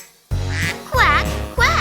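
Quacking is imitated by a voice in an Old MacDonald nursery song, with three short nasal quacks in quick succession over a steady musical backing.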